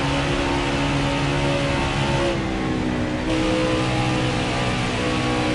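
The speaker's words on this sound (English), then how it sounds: "turn 3 and 4, I think I can go full throttle without even lifting" A race car engine in a video game holds at full throttle with a loud, sustained droning whine of layered tones. The pitch dips and shifts briefly partway through, then steadies again.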